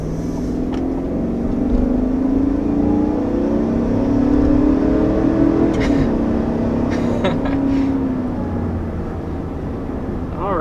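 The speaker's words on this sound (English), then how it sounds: "we're first taking off in this 2021 Tahoe" A 2021 Chevrolet Tahoe SUV pulling away from a stop with its standard V8 engine, a steady loud engine drone rising and falling in pitch as it accelerates, with faint speech in the background.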